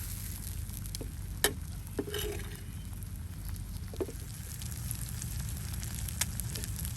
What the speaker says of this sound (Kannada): ಲೋ ಫ್ಲೇಮಲ್ಲಿ ಫ್ರೈ ಮಾಡಿದರೆ ಆಯಿತು ಲೋ ಟು ಮೀಡಿಯಮ್ ಫ್ಲೇಮಲ್ಲಿ